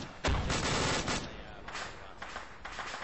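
High-explosive rounds fire from a weapon in a military game. A loud close burst is followed by a few more reports in quick succession that fade into a ringing rumble.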